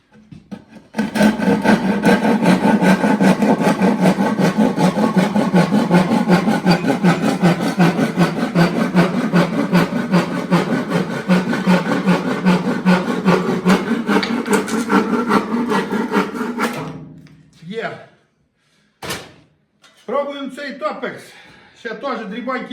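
A hand saw with freshly set teeth rasps steadily through a board in fast, even strokes for about fifteen seconds, close and loud, then stops as someone speaks.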